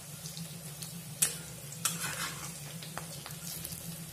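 Cabbage pakoras frying in a pan of oil make a soft, faint, steady sizzle, with a few sharp clicks and scrapes as they are turned.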